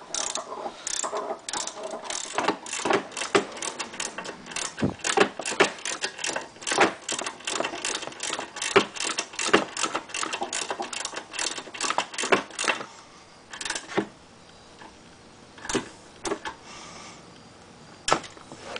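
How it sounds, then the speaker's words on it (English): Ratchet wrench working a brake caliper bolt on a Dodge Intrepid, a fast, close run of sharp metallic clicks that slows into sparse, separated clicks near the end. "So make sure you have your wrench going the correct way."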